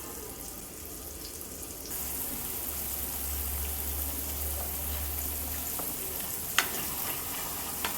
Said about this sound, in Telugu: ఇంకోవైపు పులుసు కూడా ఫ్రై చేసేసుకుంటానండి.